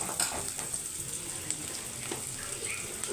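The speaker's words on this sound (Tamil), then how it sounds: "அதையும் நல்லா வதக்கி விட்டுக்கிறேன்" Cumin and drumstick leaves sauté in a hot pan for a murungai keerai poriyal, giving a steady, soft sizzle with faint crackles and occasional stirring scrapes throughout.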